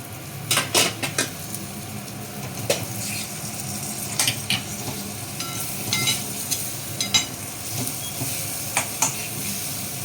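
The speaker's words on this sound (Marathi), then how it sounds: "ती मसाल्यामध्ये चांगली परतून घेणार मी आधी" Roselle (ambadi) leaves being sautéed in a spice mixture in a pan, with scattered sharp clinks and scrapes of a utensil stirring over a steady low sizzle, close and fairly loud, no talking.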